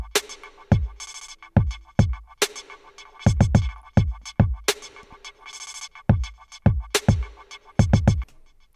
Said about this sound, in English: Here's what it sounds like with the kick, the snare, and the vocal hi-hat that I manipulated.